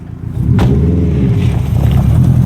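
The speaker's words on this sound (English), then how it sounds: "we have another car already showing up" A rally car engine roars up close at the end of a special stage, growing louder as it arrives, with a sharp crack early on and a steady rumbling drone after.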